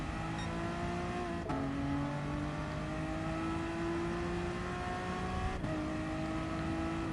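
A race car engine in Gran Turismo Sport at Brands Hatch holds a steady high whine with rising pitch, broken by two quick gear shifts, loud and continuous with no talk.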